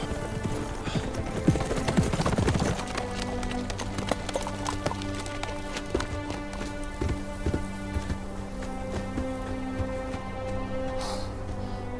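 Horses gallop at speed in a drama battle scene, hooves pounding in a dense, continuous clatter, loud and close, with sharp impacts and rushing noise but no speech.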